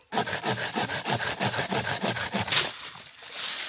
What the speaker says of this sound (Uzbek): O'shaning uchun buni arralab olib tashlashadi.